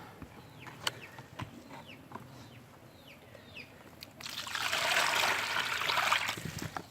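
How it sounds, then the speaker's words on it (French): Water pours out of a guinea pig's bath basin, heard as a rising, fairly loud rushing splash in the last few seconds after quiet room sounds and faint trickles. "Je me débarrasse de l'eau"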